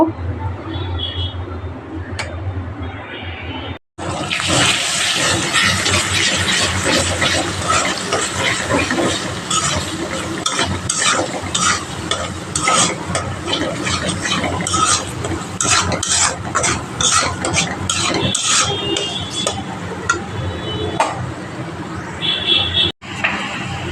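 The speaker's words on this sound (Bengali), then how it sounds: "এটা আমি ভালো করে নাড়িয়ে নিব" Food for a pulao and chicken meal stirred in a cooking pot, a dense continuous scraping and sizzling texture with rhythmic spoon strokes, and a voice speaking briefly in the opening seconds.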